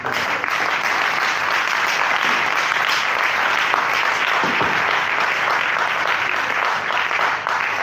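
Sustained, dense applause from a large audience at a youth conference question-and-answer session, loud and even throughout with no talking over it.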